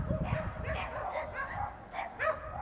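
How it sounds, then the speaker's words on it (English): Stray dogs in the countryside near Cusco, Peru, bark and yip several times at middle distance, in irregular bursts over a low outdoor background. "There are so many stray dogs here."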